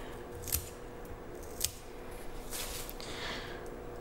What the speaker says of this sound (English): I'm just gonna cut off these like wilted leaves